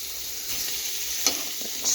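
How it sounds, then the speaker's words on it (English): Beef frying in a pan, a steady close sizzle with a single brief pop partway through, no voices. "I'm going to cook all this beef though."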